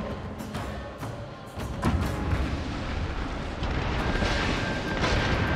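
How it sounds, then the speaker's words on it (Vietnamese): Bombardment explosions from the video game Total War: Shogun 2, a dense, continuous rumble of booms and impacts building in loudness, with layered battle noise throughout. "Nó bắt đầu ném bom."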